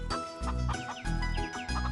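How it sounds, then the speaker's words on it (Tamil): Chickens cluck steadily and close by while being given feed in a village yard, with several overlapping clucks and calls and no clear talking. "கோழிக்கு தீவனம் போட்டுட்டு இருக்கேன்"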